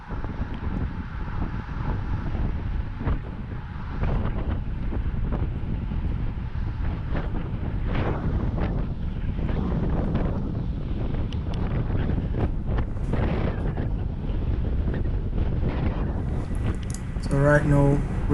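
Strong headwind buffeting the microphone on a road bike ridden back into the wind, a constant loud low roar filling the whole stretch, with a few faint higher chirps near the end.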